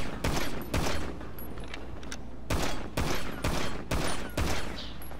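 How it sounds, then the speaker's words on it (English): Rapid gunfire bursts from a dockside shootout in Grand Theft Auto V, loud and close, arriving in several dense volleys separated by short pauses over a steady low background hum. "I'm shooting everything."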